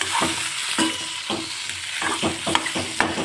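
Bhel puri mixture of puffed rice with salt and red chili powder being stirred in a pan over a gas flame, a steady run of scraping, rustling stirs with soft sizzling underneath, close and fairly loud.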